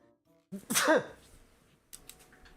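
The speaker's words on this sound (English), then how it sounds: "Hold on, I gotta sneeze." A single sharp sneeze bursts out close by, followed by a brief quiet pause and a few faint rustling sounds.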